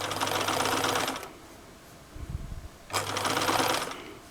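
A sewing machine stitches a seam on a jumpsuit romper in two close bursts of rapid whirring, separated by a short pause with a few soft handling thumps.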